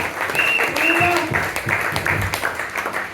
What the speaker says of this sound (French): Que le Seigneur soit là, acclamons très très fort.